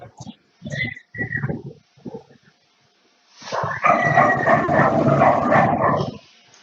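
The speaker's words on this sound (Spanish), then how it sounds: "Escucho un perro por ahí." A dog barks and whimpers repeatedly during an online video meeting, coming in short bursts at first and then as a louder, sustained run of yelps and barking that mixes with meeting background noise.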